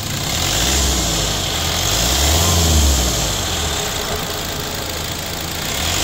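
A 2018 Hyundai Accent CRDI diesel engine idles steadily up close after an EGR valve and intake manifold cleaning, with a low continuous rumble and a slight swell partway through.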